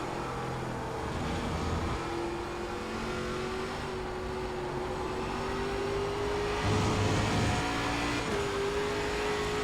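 An ARCA stock car engine in iRacing at Lime Rock Park drones steadily at high revs, then briefly dips as the driver short shifts out of fourth before the tone climbs again, a loud continuous in-car engine note.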